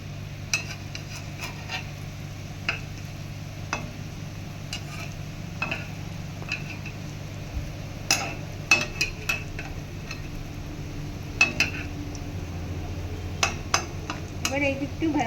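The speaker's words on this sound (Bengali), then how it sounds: "সব কিন্তু কড়া ভাজতে হবে, পেছনটাও কড়া ভাজতে হবে।" Masoor dal fritters frying on low heat in a pan, a steady soft sizzle running throughout with occasional sharp utensil clicks and scrapes, and a low hum underneath.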